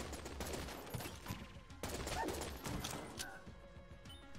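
Sniper bullets fired in Enter the Gungeon come as a quick run of sharp, cracking gunshots with crashes between them, busy and fairly quiet in the mix, with no clear talking.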